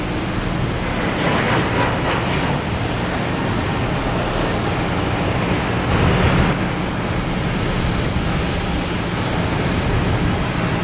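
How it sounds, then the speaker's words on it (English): Aer Lingus Airbus A321neo bound for Shannon takes off at Boston Logan, a loud continuous jet engine roar that swells slightly partway through. "Now we got Aer Lingus taking off"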